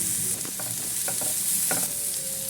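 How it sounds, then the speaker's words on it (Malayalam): Chopped ginger, garlic and capsicum sauté in a pan for a lasagna filling, a soft steady sizzle broken by a few scraping stirs of a spoon, close and unaccompanied by speech. "നമുക്കിതിലേക്ക് ഇഞ്ചിയും വെളുത്തുള്ളിയും ഈ ക്യാപ്സിക്കും അരിഞ്ഞത് ഇട്ട് കൊടുക്കാം"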